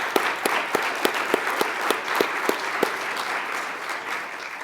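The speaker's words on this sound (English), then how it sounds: "So let's give them all one more round of applause." An audience at an academic colloquium in Pittsburgh applauds panelists and moderators with a dense, sustained round of clapping, a few sharper claps standing out near the front.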